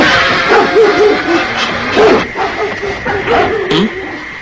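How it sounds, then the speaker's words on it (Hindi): Dogs barking and yipping in short pitched bursts, fairly close and loud, in an animated Jungle Book jungle scene, with some whining calls between the barks. "ये कुत्ते भौंक क्यों रहे हैं इतना?"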